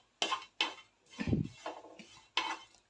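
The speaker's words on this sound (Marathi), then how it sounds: "खोबरं नुसतं कोरडंच भाजून घ्यायचं आहे" Grated coconut is dry-roasted in a pan, heard as a few sharp scraping and clinking strokes of a utensil against the metal, quiet and close with short pauses between.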